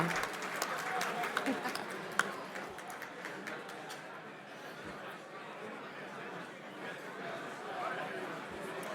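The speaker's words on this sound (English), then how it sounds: "Let's give them more of a round of applause," Applause from an audience at an M&A awards gala, a steady wash of clapping with scattered chatter and voices mixed in, moderately loud throughout.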